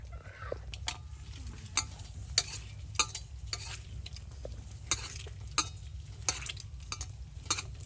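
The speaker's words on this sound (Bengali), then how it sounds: "ভেজে নেওয়া কাঁচামরিচ দিয়ে পেঁয়াজ কুচি একসাথে মাখামাখা করে নেওয়া হচ্ছে, তার সাথে দেওয়া হচ্ছে সরিষার তেল।" Fried green chilies, chopped onion and mustard oil are mashed together by hand, giving soft squelching and irregular clicking taps close by over a low steady background rumble.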